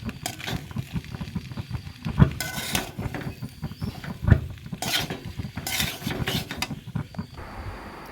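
A utensil stirring vegetable rice noodles in a pan gives repeated scraping and clinking, with two sharper knocks, all at close range over a soft background with no speech.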